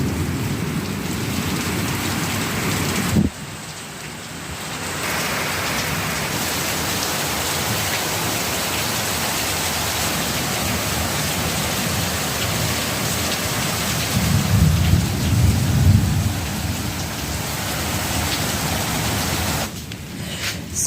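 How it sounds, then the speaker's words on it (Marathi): Dense, continuous heavy rainfall hisses loudly, with a low rumble of thunder swelling in the middle before the downpour carries on. "आणि बघा हा पाऊस"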